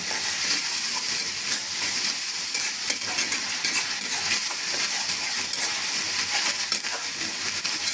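Onion, ginger and garlic sizzle steadily in a hot pan while being stirred, a dense continuous frying hiss with scattered scraping clinks from the spoon, close and loud.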